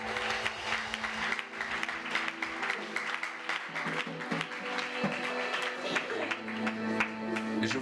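A church congregation in Zoukougbeu applauds and cheers to acclaim Jesus Christ, with loud, sustained clapping and shouting that fills the space and never lets up.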